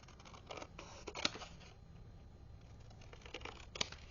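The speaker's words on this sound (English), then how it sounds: "So I'm going to use my scissors, simply cutting that." Scissors snip through card for a barn-shaped greeting card, giving faint, soft cutting sounds with two sharper clicks of the blades closing, spaced a few seconds apart.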